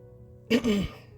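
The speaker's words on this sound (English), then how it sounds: "Clearing my throat" A single short, rough throat clearing, close and moderately loud, in an otherwise quiet moment.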